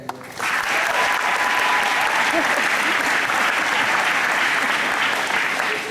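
Loud, sustained applause from a large crowd at a high school graduation, honoring the graduates' parents, steady dense clapping for about six seconds after a brief quiet start.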